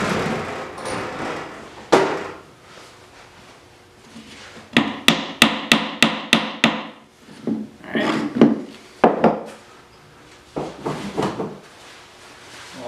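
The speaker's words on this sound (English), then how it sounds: "Let's grab a hammer." Hammer blows driving together the wooden frame of a small birdhouse in a woodworking shop, a quick burst of sharp close taps followed by scattered knocks and the rub and shuffle of handled wood.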